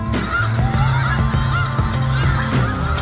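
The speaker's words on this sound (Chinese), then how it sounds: "受到路边的人驱赶惊吓，大量的野鸭开始起飞离开" A huge flock of wild ducks rises from a farm field in Canada, a loud continuous wall of honking calls and wingbeats filling the whole stretch.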